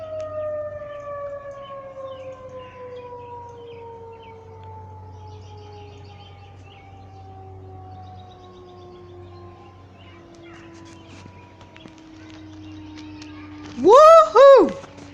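Tornado siren sounding during a test, its long tone gliding slowly downward in pitch and rising again near the end, loud and sustained over steady background hum.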